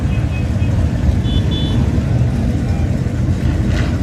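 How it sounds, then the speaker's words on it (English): Cars idle together at a Friday night lake car show, a heavy low rumble of engines close by running steadily and loud with a background murmur of people. "They got these cars idling."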